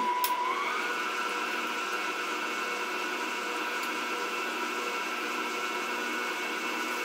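Electric mixer beating Christmas cookie dough, a steady close motor whir that rises in pitch in the first second, then holds an even, continuous hum with no talk.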